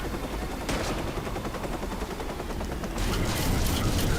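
Video game gunfire from Watch Dogs: dense rapid bursts of automatic shots with booming impacts, loud and continuous, getting heavier near the end.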